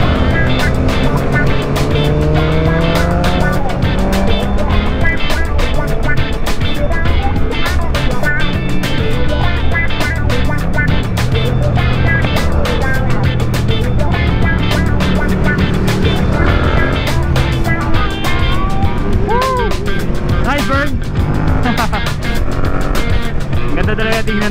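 BMW S1000RR sports motorcycle engine running loud and continuous throughout, a sustained roar with rising and falling revs as the bike is ridden, steady and close with no pauses.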